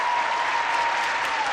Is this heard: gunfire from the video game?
no